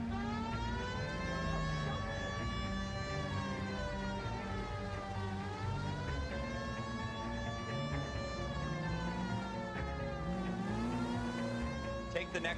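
A police car siren in L.A. Noire, a wailing tone rising and falling in slow sweeps over engine and street noise, steady and fairly close, with some talk in the background.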